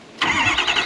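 A diesel plow truck's engine cranks and catches, firing up abruptly and settling into a loud, steady running rumble close by, with no voices.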